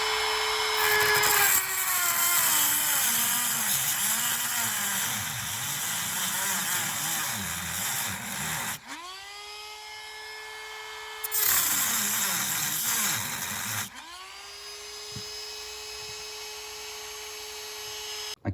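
A cutting tool grinds through small welds on a Yasuni scooter exhaust restrictor, whining loud and close in long continuous passes that stop abruptly twice before resuming.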